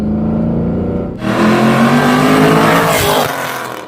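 A 2010 Chevrolet Camaro SS engine revs and accelerates up close, a low droning tone that swells abruptly into a loud, rising roar before easing off.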